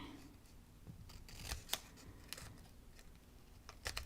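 Scissors snip paper for a teabag ephemera collage in a quiet room, several quick, crisp close cuts spaced irregularly, with light paper rustle between them.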